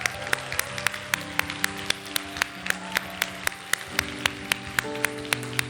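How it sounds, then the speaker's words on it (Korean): A congregation at an Onnuri Church Sunday university worship service claps in a steady, rhythmic beat over music with sustained tones, the sharp claps moderately loud and continuous throughout. "우리 뜨거운 박수와 또한 환호를 보내주셨으면 좋겠습니다"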